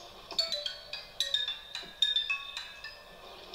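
A phone rings with a call from the caller's father, a bright tinkling melodic ringtone of repeated chiming notes, fairly faint and alone with no talking.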